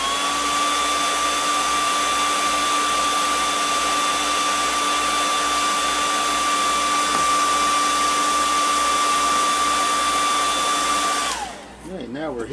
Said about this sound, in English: now we're heat setting this paint